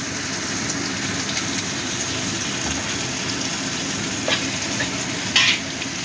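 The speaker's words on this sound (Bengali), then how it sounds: "পেঁয়াজটা একটু লাল করে ভেজে নেব।" Chopped onions with crushed garam masala frying in a pan for a mutton curry, a dense, even sizzle close by with a few faint clinks of a spatula, and no voices.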